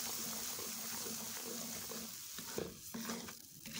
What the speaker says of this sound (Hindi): तो अब हम इसमें थोड़ी सी पानी के छींटे लगाएंगे ताकि इसमें दाना बन जाए।